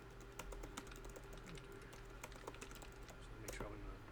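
Soft, steady clicks of someone typing on a computer keyboard, quiet and close, with scattered keystrokes over a low electrical hum and faint voices in the background.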